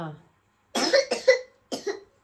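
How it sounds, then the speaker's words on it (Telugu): A young girl coughs in a few quick bursts, a short pause, then another pair of coughs, close and fairly loud. "పాప దగ్గరికి వాళ్ళ చూడు, దగ్గు ఎట్లా వస్తుందో"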